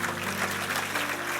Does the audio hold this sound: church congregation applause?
yes